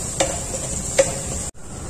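Onions frying with a pinch of salt in a pan give a steady, close sizzle, broken by two sharp stirring scrapes and a brief drop-out near the end.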